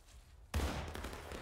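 Musket fire in War of Rights erupts as a sudden loud volley after a quiet moment, followed by a rumbling, echoing tail of scattered shots across the battlefield.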